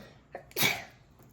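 After two short breathy hitches, one abrupt sneeze erupts up close and tails off into quiet.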